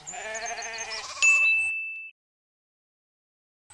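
A cartoon sheep bleats in a wavering, close call for about a second, followed by a bright bell-like ding that rings out and fades into silence.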